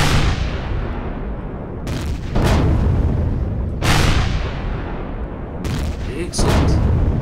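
A defense turret in the sci-fi survival game Empyrion-Galactic Survival fires on a base, loud booming blasts repeating every couple of seconds, each one decaying into a long rumbling tail.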